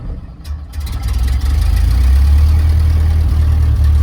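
A 1930 Ford Model A engine starting with the choke pulled, cranking briefly before catching and settling into a loud, steady low-pitched idle close by, with no talking.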